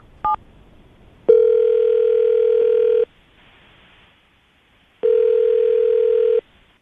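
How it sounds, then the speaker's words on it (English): Telephone line tones on a call: a short beep, then two long steady ringback tones separated by a silent gap, loud and clean with nothing else heard. "I'm going to dial the number."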